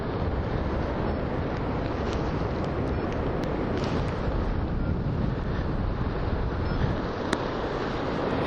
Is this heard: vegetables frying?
no